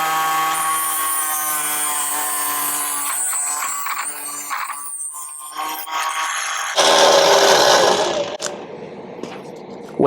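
A mini table saw cuts through 3/4 inch wood in a workshop: a loud, steady, high motor whine runs for several seconds, then swells into a harsher, rougher blade bite before dropping back with a few sharp knocks at the end.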